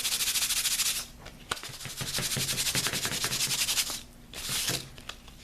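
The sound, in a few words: sandpaper roughing up a doll's hair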